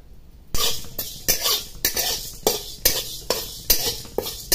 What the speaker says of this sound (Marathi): आता मी तुरीची डाळ घालून घेते भाजण्यासाठी।